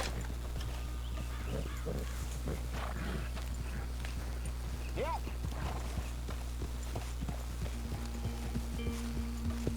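Dutch's white horse in Red Dead Redemption 2 walking with a steady, fairly faint clip-clop of hooves over a low continuous hum, with voices talking faintly in the background.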